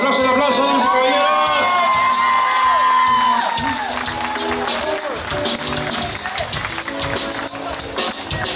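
Guests at a quinceañera party cheer and clap over loud live music from a band, with whoops and crowd noise layered under the band and a voice calling out.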